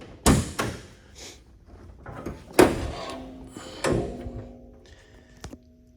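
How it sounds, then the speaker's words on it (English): Hood of a 1973 Dodge Charger SE 400 being opened: a sequence of close metallic clunks and thumps, with a few sharp knocks and a longer creaking release in the middle, spaced irregularly. "I'll open the hood."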